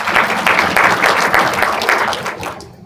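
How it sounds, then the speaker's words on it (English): Audience at a personal branding talk bursts into a short, loud round of applause with brisk, slightly rhythmic clapping that tails off at the end. "round of applause for everyone"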